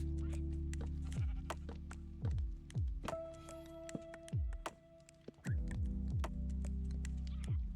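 Minecraft sheep bleat in short, wavering calls over a steady droning background, with several soft thuds and blocky game sounds mixed in.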